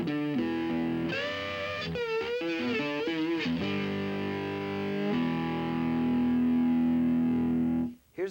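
An electric guitar played through a Boss turbo overdrive, a compressor and a short delay pedal gives thick, sustained distorted notes and a bending lead phrase, then a long ringing held chord that fades and cuts off near the end.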